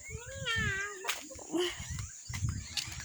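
A voice imitates a cat's meow with a rising, wavering cry during a hide-and-seek game, followed by thumps, scuffles and other children's voices close by.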